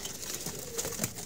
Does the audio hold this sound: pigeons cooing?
yes